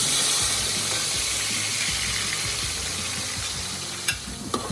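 Loud, steady sizzling of onion added to fish frying in a hot pan, hissing continuously with a few clinks of a utensil near the end.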